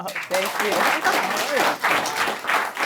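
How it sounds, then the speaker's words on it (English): Applause from an audience at a business talk fills the clip with dense, steady clapping, while someone briefly speaks over it. "round of applause"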